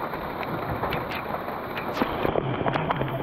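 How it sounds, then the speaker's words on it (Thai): Heavy rain pouring down in a forest during a storm, a steady dense hiss with scattered sharper patter and drips, loud and continuous throughout without any talk. "ฝนตกหนักมากครับ"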